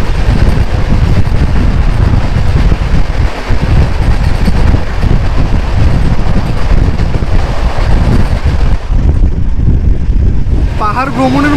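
The Kanchan Kanya Express running through the Dooars, a loud continuous rumble and rushing wind noise from inside the moving train, steady throughout with a faint voice near the end.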